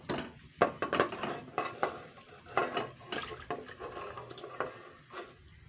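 Boiled raw mangoes being tipped onto a plate while water drains off, with irregular clinks of utensil on dishware, soft knocks and faint dripping, fairly quiet and close.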